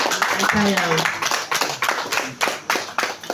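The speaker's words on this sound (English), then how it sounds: "I think we should give a woman a special applause." Hall audience at a Lagos anti-drug-abuse workshop for youths gives applause, dense clapping continuing while a voice speaks over it, a few sharper claps standing out toward the end.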